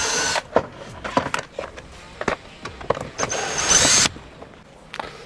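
A power screwdriver removes an interior panel from a camper van, heard as short, close whirring bursts mixed with clicks and handling noise, with one longer whir near the end.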